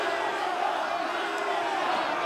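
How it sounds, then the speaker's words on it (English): A wrestling crowd at an NWA Mexico show shouts and yells at the wrestler Vampiro, a continuous dense roar of many voices that stays steady and fills the arena. "You can hear the crowd coming up, telling Vampiro, telling what they want"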